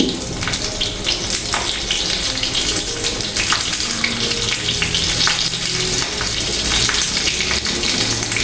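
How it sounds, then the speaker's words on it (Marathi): Mustard seeds, cumin and a green chili fry in hot oil, giving a loud, close, steady sizzle with scattered pops and crackles throughout and no talking. "तर आता इथं थोडंसं आपण तेल गरम करून घेऊया तर आपल्याला मोहरी आणि जिरे घालायचे अर्धा चमचा ही हिरवी मिरची"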